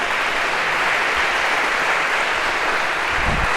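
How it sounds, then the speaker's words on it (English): A lecture audience at Harvard's CS50 applauds a volunteer, a dense, steady wash of clapping from a large hall that holds evenly throughout, with no talk. "round of applause for our one brave volunteer here"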